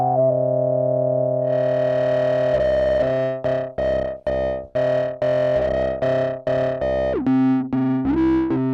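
Prophet synthesizer, a Prophet 6 or Prophet 08, played through its filter with distortion: a sustained buzzy chord swells brightly, then a run of sharp, repeated plucked stabs with a gliding pitch drop near the end, loud and without talk.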